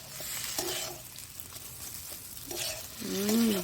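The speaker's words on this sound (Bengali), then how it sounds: "নাড়িয়ে নাড়িয়ে কষিয়ে নিতে হবে" Banana flower mixture being stirred and fried in a pan, with a steady soft sizzle and scraping stir strokes; a faint voice briefly sounds near the end.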